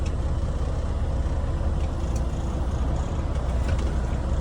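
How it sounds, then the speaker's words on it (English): A Class A truck rolls forward and brakes to a stop during an air brake test, giving a steady, loud broadband rumble of engine and road noise without clear speech. "I'm going to let my truck roll forward and make sure when I stop, my truck is not pulling to either side"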